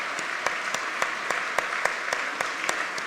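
Audience applause for the mayor of Grays Lake at a 2017 State of the State address, a steady dense wash of clapping throughout with a few sharper claps standing out, no voices.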